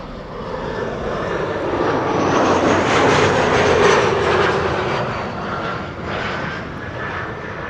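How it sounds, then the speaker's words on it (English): A KLM passenger jet arriving at Amsterdam Schiphol from Aalborg roars steadily and loudly, its engine noise swelling to a peak mid-pass before easing off slightly, with no voices over it. "This is KLM Flight 1284, arriving from Aalborg"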